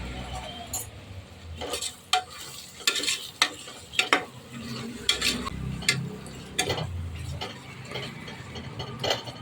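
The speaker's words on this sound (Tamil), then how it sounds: "தக்காளி போட்டு தக்காளி நல்லா வதக்கிக்கலாம்." Chopped tomatoes sautéing in a pan with salt, faint sizzling beneath repeated scrapes and clinks of a spoon stirring against the pan, quiet and close.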